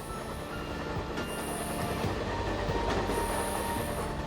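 An Alstom AGV high-speed train runs along the rails with a continuous, loud rumble, rhythmic wheel clatter and thin, high squeals that rise and fade, with no one talking.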